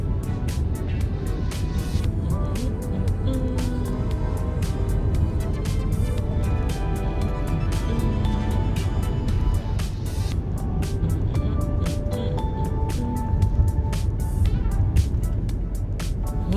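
A car drives through snowy Burnham-area streets toward downtown Mississauga, Ontario, after a snowstorm, giving a steady, close road and engine rumble with faint rhythmic ticking throughout and no voices.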